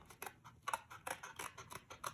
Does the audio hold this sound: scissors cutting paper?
yes